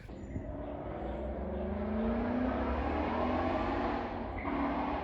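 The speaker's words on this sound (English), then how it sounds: "He drives by here all loud and fast" A Ford Mustang GT drives past at some distance, its engine note swelling and then fading away over a few seconds, fairly faint and with no talking.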